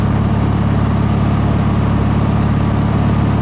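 A 1776 single-port engine in a vehicle cruising in gear at about 40 mph and 2,000 RPM gives a steady, even low drone with a constant hum and no breaks.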